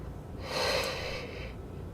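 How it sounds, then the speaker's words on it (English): A person yawns once, a drawn-out breathy exhale swelling and fading over a steady background hiss. "I'm just yawning."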